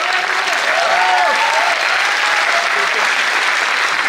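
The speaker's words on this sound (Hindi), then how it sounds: "अब उसके लिए ताली चाहिए ही चाहिए" A crowd at a public stock market trading talk claps steadily, a dense, loud, unbroken burst of applause lasting the whole stretch, with a faint voice briefly audible beneath.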